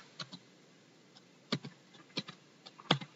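Scattered keystrokes on a computer keyboard as a command is typed, a few quick taps in small clusters, close and clean with no talk.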